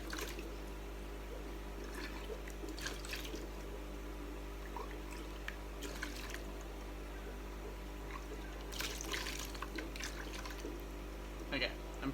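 Water from a jug poured in a fish room, a continuous faint trickling and splashing under a steady low equipment hum, with a few brighter splash bursts near the end.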